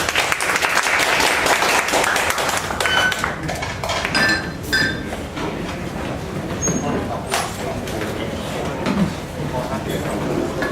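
Clapping from a lecture audience for a presenter at a medical talk on upper cervical injury, a brisk burst of hands that thins out into scattered claps, clinks and room noise.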